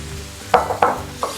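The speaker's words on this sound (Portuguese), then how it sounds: "Não mexe com uma panela bem aberta para realmente não gerar água, realmente tostar, caramelizar." Chicken pieces browning in a wide open pan for poulet au vinaigre, with a soft sizzle beneath three sharp clinks and scrapes of a utensil against the pan, close by, no voices.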